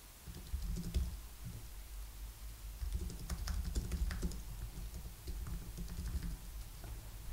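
Someone types a blog post on a computer keyboard, producing a steady stream of close, soft keystroke clicks in uneven bursts, with no speech.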